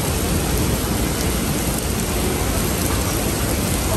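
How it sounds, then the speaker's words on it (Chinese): Heavy rain pours down as a loud, dense, unbroken hiss across the whole stretch, with no voices. "哇，下那么大雨啊！"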